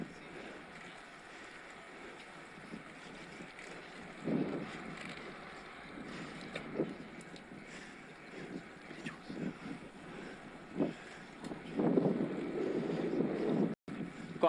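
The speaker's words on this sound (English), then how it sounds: "Got headwind here now, I can feel it, because this is flat." Steady wind rushes and buffets the microphone while riding a bicycle into a headwind along a flat road in Wales, a constant broadband roar with louder gusts near the end.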